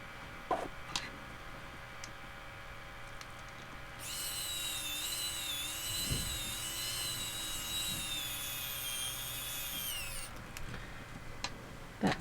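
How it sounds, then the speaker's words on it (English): A power driver sets screws into a fabric tote bag strap, one sustained whirring run of about six seconds with a faint lower drone, close up, preceded and followed by soft handling clicks. "And install the screws."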